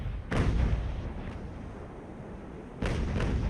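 Ship cannons fire in the naval battle game Ultimate Admiral Age of Sail, with two heavy booms about two and a half seconds apart, each followed by a rumbling decay against a low background.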